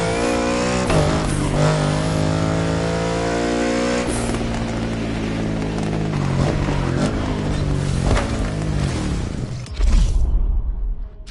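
A Ferrari F40 engine revs hard in the racing game The Crew Motorfest, a loud, close, rising whine that climbs through several gear changes before cutting off, with a burst of tire noise at the end.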